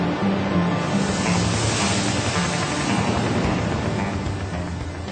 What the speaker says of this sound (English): waves constantly lap our shores